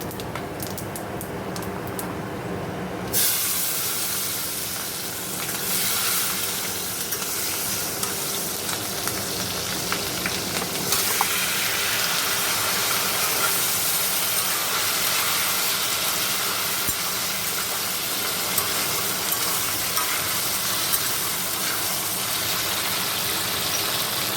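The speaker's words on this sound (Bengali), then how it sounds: "এখানে এখন জিরে শুকনো লঙ্কা ফোড়ন দেবো।" Cumin seeds and dried red chillies tempering in hot oil for a Bengali home-cooked meal give a loud, steady sizzle and crackle that runs unbroken throughout, with a brighter hiss at the start.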